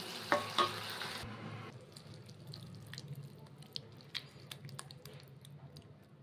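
Okra and potato curry is stirred in a pan with a spoon, giving soft squishing, scraping and gentle sizzling at close range, quiet and continuous with a few louder scrapes near the start.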